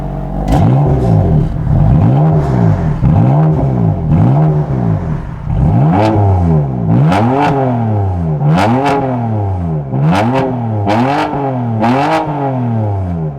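A BMW sports car from the 335i E93, M3 E92 and M4 F82 lineup revs repeatedly, its engine note rising and falling in loud, close bursts, the later blips sharper and more metallic, with no talk.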